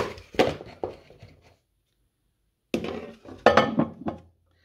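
A few light clinks and taps of dishware, then a pause, followed by another cluster of clattering knocks as a microwave splatter cover is set over a plate.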